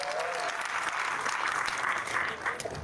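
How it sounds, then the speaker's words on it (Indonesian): A crowd at a political speech breaks into sustained applause, dense and even clapping that fills the space at a steady level with no voices over it. "Itu tepuk tangan buat teman-teman semua."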